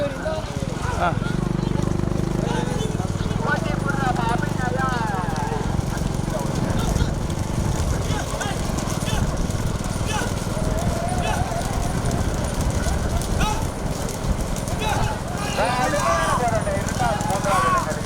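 Sixteen small-bullock carts race at Dharmapuri, with hooves pounding and wheels rumbling under a loud announcer's commentary, while dogs bark and the crowd noise carries along the track.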